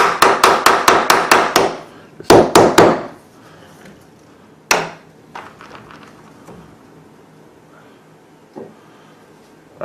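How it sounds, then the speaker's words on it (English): Hammer striking a door during a door project: a fast series of about seven sharp blows, a pause, then four more, followed by a single loud hit and scattered lighter taps. "Then I'll just take a hammer."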